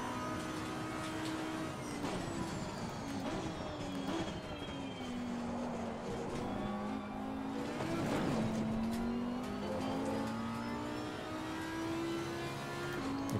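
An Audi R8 LMS GT4 race car laps Monza in Assetto Corsa Competizione, its engine droning steadily and rising and falling with shifts, with brief tire noise and other cars nearby.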